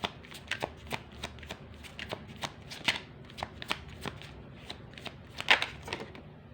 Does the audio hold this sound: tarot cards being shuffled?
yes